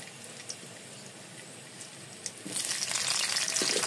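Pumpkin pieces fry in hot oil with salt, a steady soft sizzle that swells louder and brighter partway through, close by with no talk.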